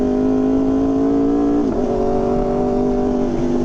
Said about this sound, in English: it has a little like kind of mechanical noise when you take off